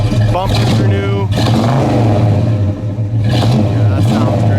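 A 1970 Plymouth Road Runner with a new dual exhaust revs up loud and close in a few throttle blips, the engine rising and settling between bursts while people talk nearby.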